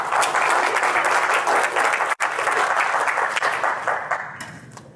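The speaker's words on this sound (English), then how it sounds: "thanks for the applause" A conference audience applauds at an information security talk, a dense, steady wash of clapping that holds loud and even for several seconds, with a brief dropout midway, before thinning and fading toward the end.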